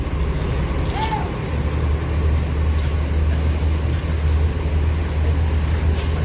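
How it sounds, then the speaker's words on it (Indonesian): A Rosalia Indah intercity bus on the Palembang to Blitar line pulls away, its heavy diesel engine droning low and steady up close, with a faint brief air brake hiss near the start. "Bus akan berangkat karena nunggu penumpang yang terakhir tadi."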